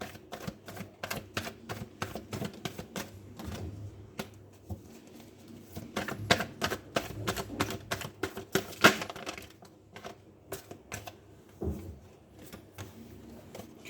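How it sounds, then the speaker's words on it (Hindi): Tarot cards being shuffled by hand, a fast run of crisp, dry clicks and riffles in repeated bursts, close and quiet, with no talking. "रीडिंग स्टार्ट करने से पहले मैं कार्ड को शफल करूँगा"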